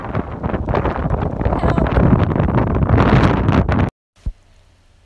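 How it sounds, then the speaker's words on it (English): Strong wind buffets the microphone on the gloomy coast at Tsang Pang Kok Tsui in Sai Kung, a loud, continuous roaring rumble for about four seconds that cuts off abruptly, followed by a brief spoken word. "it's so windy. So windy, so we're not going down."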